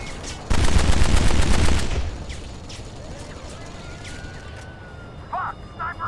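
Sniper and automatic gunfire in the video game Kane and Lynch: Dead Men, a loud dense burst of rapid shots for about a second and a half, then quieter battle ambience with a couple of brief sharp reports near the end.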